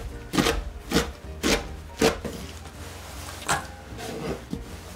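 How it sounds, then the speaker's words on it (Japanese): A knife chops spinach finely on a cutting board in about eight distinct, evenly spaced thuds, crisp and close with quiet gaps between strokes. "さらに横とか斜めに刃を入れて細かく切っていきます"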